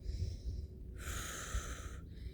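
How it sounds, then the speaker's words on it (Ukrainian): Breath during squats: a slow audible inhale followed by a longer, breathy exhale, close and soft, one cycle with a short pause between. "Вдих і видих."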